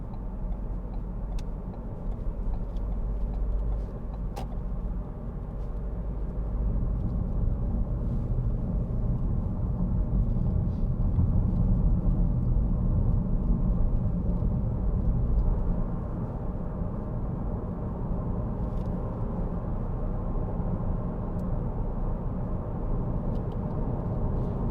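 A 2017 Ford Focus 1.5 TDCi Titanium X diesel drones steadily in fifth gear on the road, with a low engine hum and road noise that swells slightly midway, heard from inside the cabin with faint ticking.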